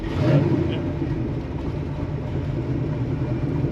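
A big block car engine in a stick-shift vehicle shifting into third gear holds a steady, close low rumble and throaty drone that continues evenly throughout.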